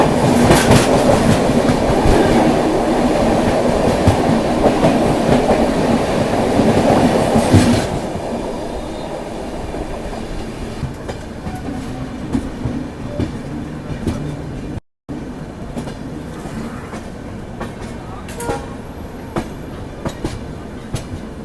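The Lucknow Shatabdi Express passenger train rolls along loudly with steady clickety-clack and rumble, easing to a quieter, lighter running sound partway through as it nears New Delhi station.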